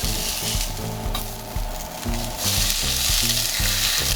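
Cauliflower steak searing in a hot pan just after being flipped, a loud, steady sizzle and frying hiss running throughout, with no voices.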